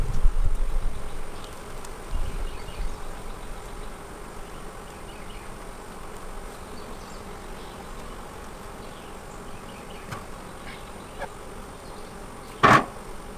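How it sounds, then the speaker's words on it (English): Honey bees drone around an open hive in a steady, close buzzing hum, with a few louder wingbeats passing near and one sharp, brief knock near the end. "I know for a fact what I saw was another queen bee in here."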